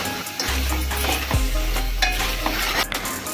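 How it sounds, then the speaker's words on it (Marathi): Restaurant-style pav bhaji fries in a pan, giving a constant close sizzle as a spoon stirs and scrapes through it, with a low hum underneath and no talking. "छान हलवून घेऊ, त्यामुळे त्याला मस्त लाल कलर येत आहे"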